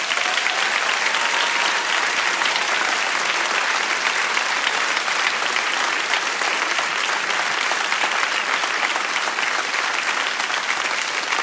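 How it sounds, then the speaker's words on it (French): Sustained, loud audience applause for the children at the international grand final of a dictation contest, an even, dense roar of many hands clapping with no speech. "J'aimerais qu'on les applaudisse une fois de plus."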